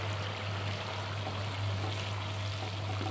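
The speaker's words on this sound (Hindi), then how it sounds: "अब इसमें ये 1 कप पानी डाल रहा हूँ मैं।" A cup of water poured into yogurt fried in a pan for fish curry masala, a faint steady trickle over a low constant hum.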